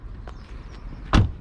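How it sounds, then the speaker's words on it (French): A Tesla Model 3 door thumping shut, a single solid close-range thud near the end, preceded by faint clicks and a soft mechanical whir as the car locks. "Tu fermes la voiture, tu la verrouilles"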